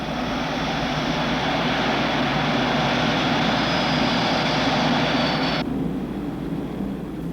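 A B-47 jet bomber running up its engines for takeoff, a loud, steady, close jet roar that holds constant before its upper hiss cuts off near the end.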